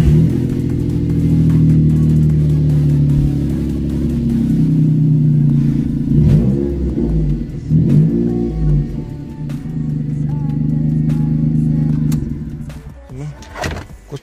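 A Maruti Alto car engine with a modified RPM gauge, running loud and close with a steady idle that rises into a few revs midway and then settles, with no talk.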